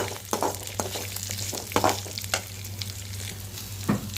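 Sautéing in a pan for a drumstick leaf chutney, with a steady sizzle of frying under irregular scraping strokes of a spoon and a low constant hum beneath.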